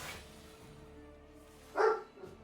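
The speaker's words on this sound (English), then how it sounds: "Doggos were not happy with you." A dog gives a single short bark at a moderate distance over quiet background noise, with faint sounds before and after.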